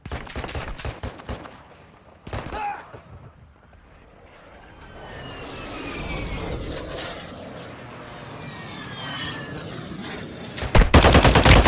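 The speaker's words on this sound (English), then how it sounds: "Friendly airstrike in the AO." Aircraft roar sweeps overhead during a friendly airstrike in Warzone Mobile, with bursts of gunfire and sharp impacts at the start and a loud crackling volley at the end.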